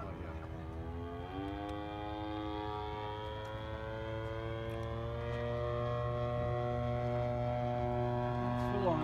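A giant-scale Super Cub RC plane engine runs at full throttle, a loud, steady droning buzz that slowly climbs in pitch and grows louder toward the end.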